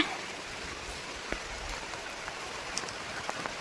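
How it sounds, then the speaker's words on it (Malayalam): Heavy rain pours down in a dense, even hiss of patter, with a few louder drops standing out now and then, and no voices. "നല്ല മഴ എന്ന് വെച്ചാൽ നല്ല മഴയാണ് കേട്ടോ"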